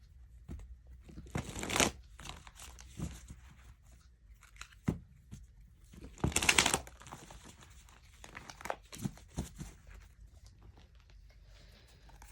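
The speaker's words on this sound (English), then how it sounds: "So let's do a quick shuffle." Tarot cards are shuffled close up in a quiet room in several brisk bursts of riffling and papery slaps, separated by softer handling sounds and pauses.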